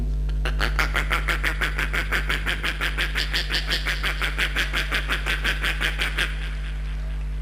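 A voice imitates a small frog with fast, regular croaking pulses, a rapid rattling series that runs for several seconds before stopping abruptly.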